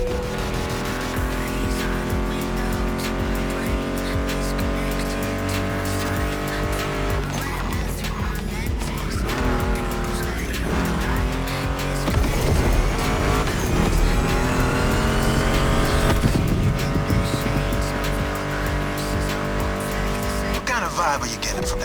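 A Mustang GT muscle car engine roars in The Crew Motorfest racing game, sustained revving with gear shifts, tire squeal and a surge in intensity, mixed with a steady musical backing.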